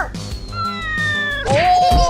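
A cartoon cat meows in a Hindi animated comedy, two drawn-out, loud meows close up, the second rising into a wailing caterwaul, over light background music.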